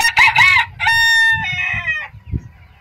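A blue American rose comb bantam chicken crows loudly and close, in two bursts with the second drawn out, then gives a single short cluck, with no voices.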